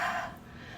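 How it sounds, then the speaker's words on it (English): Heavy, breathy huffing onto a rubber stamp to moisten its ink, one close exhale that starts strong and fades into a soft airy tail. "I just was breathing on it really kind of heavy"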